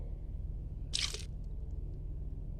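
Lime juice squeezed by hand into a chili and shallot paste for a coconut-based fern vegetable dish; one brief wet squish with a few drips, close and fairly clear over steady background hum.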